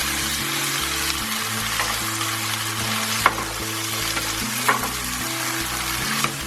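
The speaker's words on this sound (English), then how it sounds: "the diced tomatoes go in. And we're going to cook these tomatoes till it turns into a nice paste." Diced tomatoes fry in a pan for a chicken tikka masala sauce, a loud, continuous crackling sizzle with a few occasional knocks of a utensil, close and steady with no voices.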